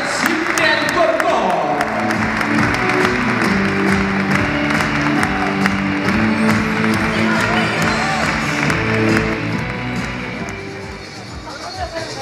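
A circus audience breaks into sustained, loud applause that fills the whole stretch, with crowd noise and music mixed underneath.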